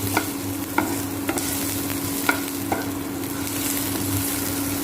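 Potatoes sautéing in oil for a Goan mushroom xacuti, a steady close sizzle punctuated by regular clacks of a spoon stirring against the pan, with no voices.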